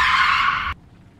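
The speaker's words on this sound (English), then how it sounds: "When we get up to this corner, we're going to do a drift" Tires of a Honda Civic skid loudly through a drift in the War Thunder video game, a broad steady hiss lasting under a second before cutting off abruptly into quiet.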